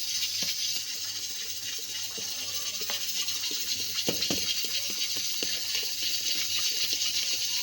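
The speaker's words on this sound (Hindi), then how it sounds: "अब हम इसमें पानी ऐड कर देंगे।" Water runs and splashes steadily into a bowl of gram flour batter for kadhi pakora, a continuous gushing pour with a few small clinks, close and moderately loud.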